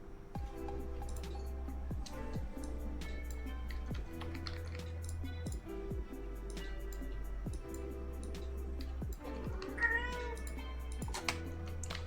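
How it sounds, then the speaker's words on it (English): A cat meows repeatedly, close and fairly soft, over a steady low hum with faint clicks and drips in the background. "Little baby meow."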